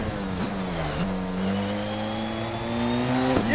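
A Porsche 919 Evo race car taken flat out at 160 mph through the Schumacher S's, its engine a sustained high-pitched whine with shifting pitch through the corners, loud and continuous from onboard.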